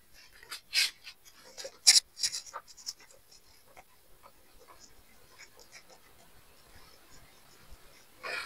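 A board being erased while solving a geometry problem, with a few brisk rubbing swipes near the start, then quieter, sparse scuffs and taps.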